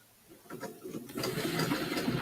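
A sewing machine runs along the outside edge of a quilted piece, its motor whirring up into a steady, close, rattling stitch that grows louder after a slow start.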